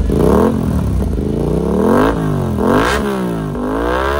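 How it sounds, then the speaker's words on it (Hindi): An Aprilia RS 457 motorcycle fitted with a full system exhaust revs hard and close, with repeated rising and falling blips and a loud, raspy exhaust note throughout. "साउंड किस तरीके की साउंड इसकी मिलने वाली है आपको, सेम सुपर बाइक की साउंड"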